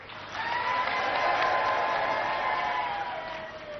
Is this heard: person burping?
no